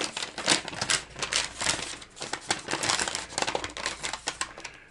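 A knife slices through packing tape and cardboard on a mailed box, a continuous run of scratchy, crackling strokes close up, busy and uneven for about five seconds with no voices.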